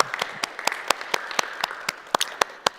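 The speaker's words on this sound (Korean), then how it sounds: "한번 박수 한번 드릴까요?" A church congregation claps together after a Wednesday Bible study sermon, a brisk, steady run of sharp claps from a modest crowd, fairly close and continuous for a few seconds.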